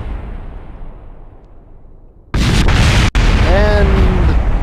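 A fuel tank explodes in the Kerbal Space Program game, a sudden loud boom cutting in after quiet rumble, followed by sustained crackling blast noise and a brief dropout, with a voice heard over it.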